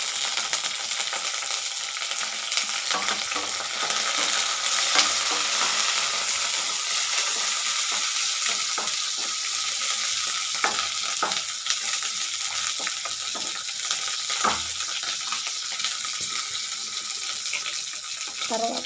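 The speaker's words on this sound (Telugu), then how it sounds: "ఈ విధంగా ఫ్రై చేసుకోవాలి." Onion frying in a pan for beerakaya chutney, a steady loud sizzle with scraping stir strokes running throughout, close up and continuous, with faint talk under it.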